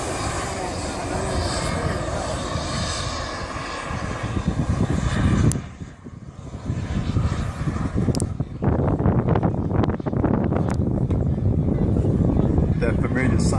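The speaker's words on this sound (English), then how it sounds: "That familiar sound of the turbine engine." Eurosport model turbine jet climbing out after takeoff, a loud whooshing whine that fades briefly mid-clip before surging back as the aircraft passes, with someone narrating over it.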